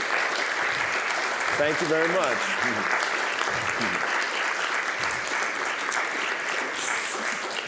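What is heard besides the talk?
audience applause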